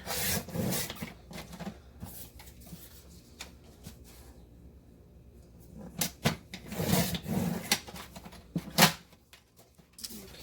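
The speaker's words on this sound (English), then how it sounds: "I'm going to trim this to 5x7" A botanical book page being trimmed to 5x7 with a paper trimmer, a series of scraping, rubbing strokes and soft handling noises that come in uneven bursts, close by and without talk.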